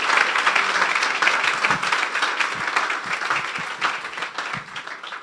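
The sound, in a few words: audience applause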